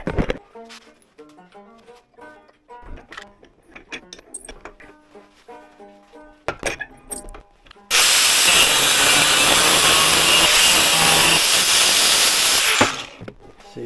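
Metal being cut for a 1932 Studebaker trailer hitch with a power saw: after scattered clanks and handling sounds, a loud, steady cutting roar runs for about five seconds, then stops abruptly.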